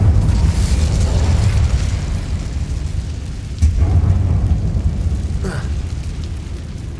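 A loud, rumbling fire-spell blast in Hogwarts Legacy, cast inside a dark mine; a sustained roaring whoosh with a sharper burst midway and a crackle near the end, with no voices over it.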